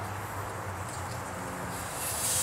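Air hisses steadily out of a 16-inch tire on a tire changer once the valve core is removed, a continuous broadband rush at fairly even loudness that swells slightly near the end.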